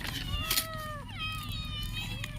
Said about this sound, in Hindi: तो दूसरी जो बिल्ली है, एक दूसरे को कैसे मार मार के खाते हैं, ये देखो।